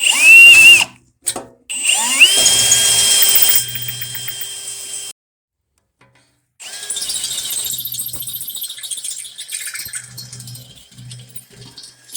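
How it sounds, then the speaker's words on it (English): A power drill whines in short bursts, then bites into a metal channel with a loud, steady grinding whir, pausing briefly before drilling resumes. "I'm just going to drill me another hole right here"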